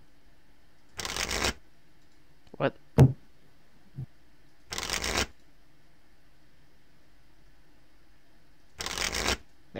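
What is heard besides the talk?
shuffling a hand of trading cards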